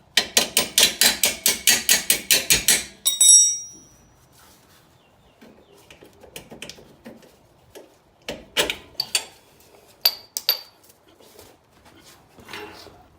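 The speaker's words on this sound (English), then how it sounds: "Then you can just tap the bolt out." A hammer taps a bolt out of the suspension on a Subaru WRX STI during a coilover install: a fast run of loud, evenly spaced metallic strikes, then scattered lighter taps and clanks with pauses between them.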